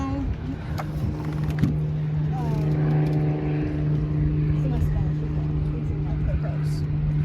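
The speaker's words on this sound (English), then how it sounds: "Here comes another seaplane, you guys. Look at that. It's taking off, though." A seaplane takes off over water in Seattle, its steady engine drone humming through the whole stretch at a moderate distance while a person talks over it.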